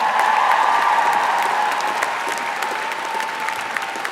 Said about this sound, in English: Let's have a big round of applause for families and friends, ladies and gentlemen.